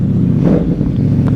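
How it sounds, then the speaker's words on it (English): Motorcycle engine on a stock factory exhaust, revving steadily and loud with a deep rumbling idle-to-rev growl held close throughout, no voices over it. "That's how those things sound stock. That's a factory exhaust."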